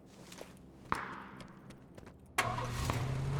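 In a battle royale shooter, a car engine cranks with a sharp click, then roars to life and settles into a steady running rumble, close and loud, following a few scattered footsteps.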